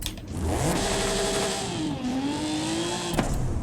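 A V12 engine in the Forza Horizon 5 racing game revs loudly and steadily, its pitch climbing, dipping and climbing again with no voices over it.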